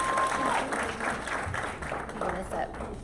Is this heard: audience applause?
yes